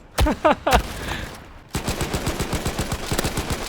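Rapid automatic gunfire rattles steadily in a World War II shooter game, following a few sharp single shots and brief tonal sounds at the start.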